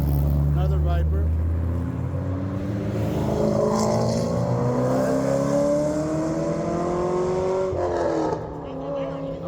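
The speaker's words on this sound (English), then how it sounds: "Who got a Viper coming through here?" Sports cars including Dodge Vipers drive past on the Tail of the Dragon mountain road, engines climbing steadily in pitch as they approach and rev through, a loud continuous roar with a brief drop near the end, voices talking over it.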